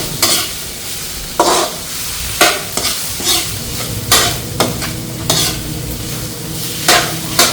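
Ginger frying in a pan while being stirred, a steady loud sizzle punctuated by repeated scraping stirs of the utensil against the pan.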